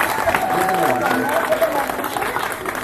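An audience claps for a teenage girl at a celebration, a steady dense wash of applause mixed with crowd noise and voices talking over it.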